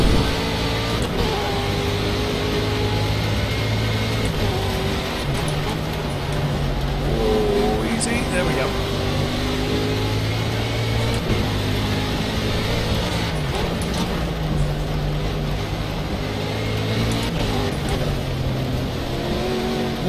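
GT3 race car engines in a racing game: a continuous loud engine drone with rising and falling revs and several cars close by, under someone talking throughout.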